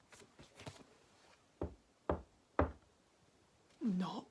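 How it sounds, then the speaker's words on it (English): Three distinct knocks on a door, evenly spaced about half a second apart, sound loud and close, with a voice speaking before and after them. "Knock, knock, knock."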